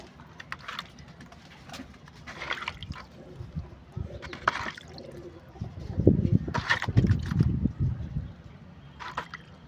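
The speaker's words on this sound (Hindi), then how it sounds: "अब मैं इन सब में पानी डाल देता हूँ" Water is poured over small seed pots in a terrace garden, with a trickling, splashing stream that grows heavier in the second half, interrupted by short bright clinks and taps.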